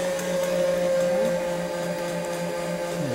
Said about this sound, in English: And turn it on. Let it whisk until it cools down.